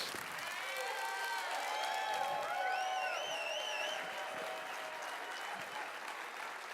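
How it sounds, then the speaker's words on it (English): A crowd applauds steadily for several seconds, with scattered whistles and faint voices mixed into the clapping. "Give him another round of applause, guys."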